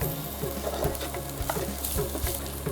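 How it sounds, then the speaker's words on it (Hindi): Ginger sizzles and sautés in hot oil in a pan, a steady close crackle with a few scraping stirs and no talk. "और इसको हम सौटे करेंगे।"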